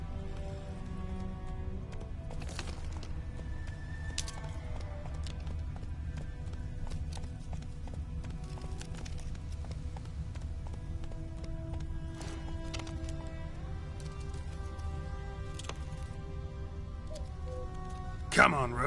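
Roach the horse in The Witcher 3 trots along with steady clip-clop hoofbeats under light ambient game sound, with a brief louder burst near the end and someone speaking briefly over it.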